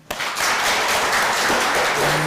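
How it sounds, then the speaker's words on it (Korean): A church congregation at a Sunday worship service bursts into applause, a loud, close wash of many clapping hands starting suddenly and holding steady for a couple of seconds. "오늘 같이 여기 오신 우리 안나 선교사님 박수 한번."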